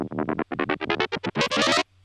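FM synth bass patch from a track, a run of rapid distorted, harmonically rich staccato notes in an uneven rhythm, played alone and ending in a sustained tone that cuts off sharply.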